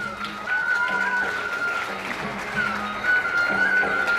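Applause from the audience at a national students' quality circles convention greets the session chair as he is called to the stage, a steady crowd clapping with a sustained whistle or feedback tone running over it.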